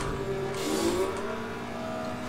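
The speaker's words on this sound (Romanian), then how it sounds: "Aud un sunet ciudat la mașină când schimb treptele." Engine of a racing video game car with a steady mid-pitched drone and a brief rising tone, as when shifting gears, heard on its own at moderate loudness.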